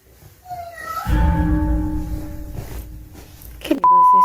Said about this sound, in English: Her daughter's toy cat, which can only be activated by pressing a button, suddenly turns on by itself.